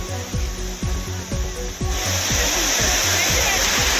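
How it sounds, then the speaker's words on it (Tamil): The main falls at Kutralam run heavy, sending up a loud, dense rush of water that swells to a full roar halfway through, after a series of rhythmic thumps. "மெயின் ஃபால்ஸில் மட்டும் தண்ணி அதிகமாக வருது"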